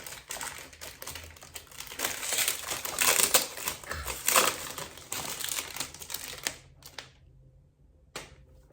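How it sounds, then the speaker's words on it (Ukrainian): Crinkly rustling of packaging and wrapping being handled and torn open, close and busy, with scattered crunches, then a pause and a brief final rustle. "Тож, швиденьке розпакування. Розпаковочка."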